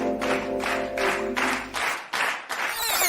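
Six separate bursts of hand clapping in an even rhythm, close and fairly loud, with a steady hum beneath the first half.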